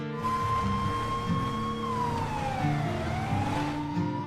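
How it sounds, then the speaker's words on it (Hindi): A wailing police siren sweeps slowly down and back up in pitch, loud and continuous over a low rumbling engine drone, in the video game Free Fire. "ये तो पुलिस के सायरन की आवाज थी।"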